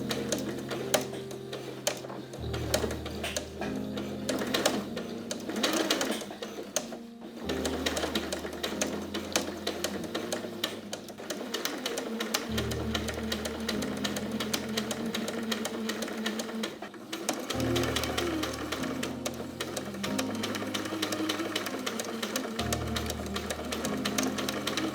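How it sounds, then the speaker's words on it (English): A sewing machine stitches Rigilene boning onto a cottage-core corset panel, running in a steady mechanical hum with repeated start-stop bursts and short pauses, close and alone for the whole stretch. "So now I'm just gonna sew this Ridgeline boning on each side of the middle."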